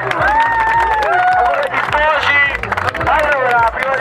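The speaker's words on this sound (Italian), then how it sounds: "Buonasera a tutti, applausi" Audience applauding and cheering on an Italian music video set, dense crowd noise with whistles and shouts, people talking over it.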